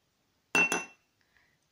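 Two quick, bright clinks of a spoon against a glass bowl as a spoonful of instant coffee is added, followed by faint small taps, close and clear with no talking.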